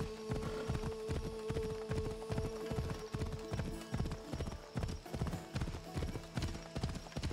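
A horse gallops in Assassin's Creed Odyssey, hooves pounding in a fast, steady clip-clop rhythm, close and loud over a low game-world hum with no talking.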